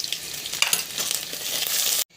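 Onion and garlic paste with ginger and spices frying in a pan, a close, bright crackling sizzle with stirring that stops abruptly near the end.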